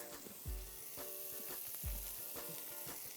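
Onion, scallion, thyme and garlic frying in melted butter, a soft, close sizzle with a few low thumps and light stirring scrapes, fairly quiet and without talk.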